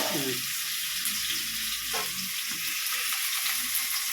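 Steady, loud sizzling of onions and curry leaves frying in a hot pan, with faint stirring and scraping sounds throughout.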